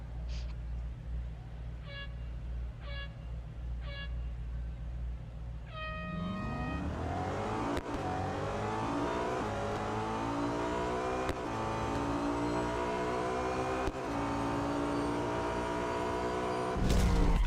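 An Audi A5 DTM (2012) race car in the Real Racing 3 drag race mode sits near, idling after a few short countdown beeps, then launches and revs hard through rising gear shifts, a loud sustained engine roar.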